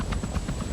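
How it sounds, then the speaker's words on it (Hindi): A helicopter in the Hitman video game whirs with a steady low rotor chop and a thin high engine whine, constant and fairly close, with no voices. "तो हम यहाँ से हेलीकॉप्टर से एस्केप कर सकते हैं"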